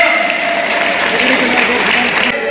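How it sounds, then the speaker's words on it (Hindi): An audience at a community honouring event in Panipat applauds steadily, a dense, even clatter of clapping that carries on for a couple of seconds, near and fairly loud, then cuts off. "तालियां बजा रहे साथियों।"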